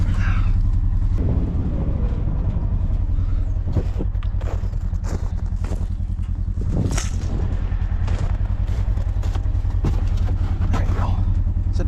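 A vehicle engine runs steadily on a cold dairy farm, a constant low rumble beneath people talking, with scattered knocks and rustles.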